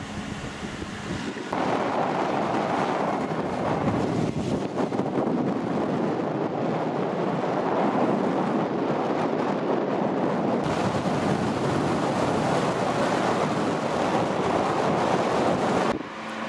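Strong, steady wind beside the Rhône at the château in Tarascon roars and buffets the microphone in a loud continuous rush, with a faint watery wash of the river underneath and no voices.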